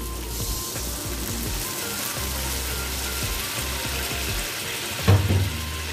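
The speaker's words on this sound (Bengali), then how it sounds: "আমি সামান্য মশলা ধোয়া জল এতে দিচ্ছি।" Spice-rinse water pours into a hot pan of prawn curry with jackfruit seeds, giving a soft steady splashing and sizzle, with a brief louder clatter near the end.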